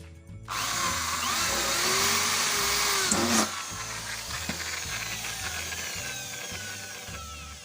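A power drill whirs loudly while drilling during the making of a mosquito coil holder, starting abruptly and running steadily for a few seconds, then dropping to a lower, continuing whine.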